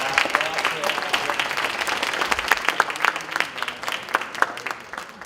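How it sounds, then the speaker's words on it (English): An audience at a grant awards event for small nonprofit organizations gives a round of applause, lively uneven clapping with sharp individual claps standing out, fading toward the end. "how about a round of applause for that?"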